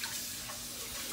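Sugar-free liquid creamer pours steadily into a cup in a continuous, soft splashing stream with no talk over it.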